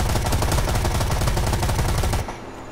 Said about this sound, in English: let's just start shooting in the air and try to attract his attention and then light him up